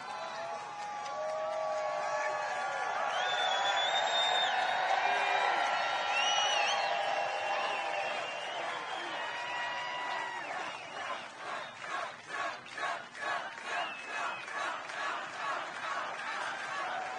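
Crowd at a Trump rally in Butler, Pennsylvania, a large mass of cheering and shouting swelling loudly, then settling into rhythmic unison chanting and clapping toward the end.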